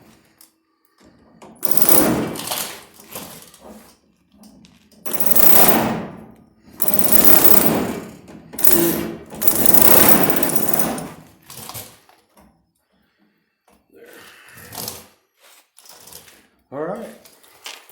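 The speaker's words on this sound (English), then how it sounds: "We'll take and chisel all this old stuff off." Rapid pneumatic-style chattering bursts come from chiseling old seam sealer off a rusty car quarter panel, repeating in several loud stretches separated by pauses.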